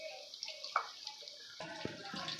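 Hot water pours and splashes into a cup or bowl of tamarind set to soak for eggplant pickle, a steady close gush with the sound shifting partway through as the container fills.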